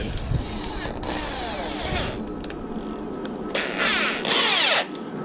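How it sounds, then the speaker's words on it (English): A power drill fitted with a 5/8 bit on an extension runs steadily, its whine rising in pitch and loudness toward the end while drilling a fishing rod holder, heard up close with no talk. "get my 5/8, basically my little drill bit here, my extension"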